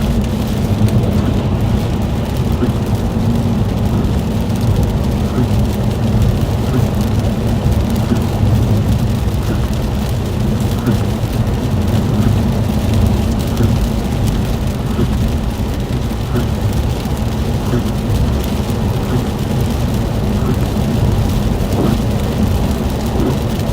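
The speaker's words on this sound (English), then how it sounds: "right now I'd say it's definitely more of like a freezing rain" Freezing rain falls during a Pennsylvania ice storm at 32 degrees, a loud, unbroken hiss and patter of precipitation with a low rumble underneath, continuing evenly for the whole stretch.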